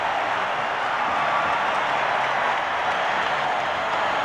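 A crowd at a 1982 NFL football game between the Falcons and the Saints roars and cheers in a stadium, a steady, loud, unbroken wall of sound with no talking over it.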